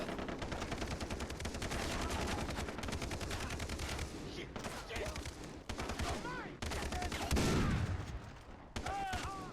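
Rapid automatic gunfire from a gun in Far Cry 3 rattles in long, dense bursts with brief pauses, loud and close, with a shouting voice breaking in between volleys.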